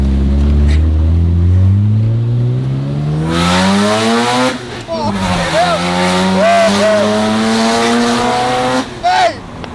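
Single turbo Mazda RX-7 with a manual gearbox revving hard nearby, its pitch climbing in loud sweeps through several blips before dropping away, with a short burst at the end and people talking over it.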